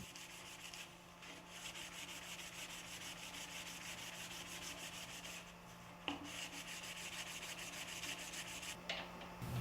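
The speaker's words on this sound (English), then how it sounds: "Sand the shroud and ring to remove any excess resin as necessary." Steady abrasive rubbing of sandpaper against a cured-resin shroud and ring runs continuously and fairly close, with a constant low hum underneath and a few brief knocks near the middle and end.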